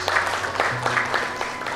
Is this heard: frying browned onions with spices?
no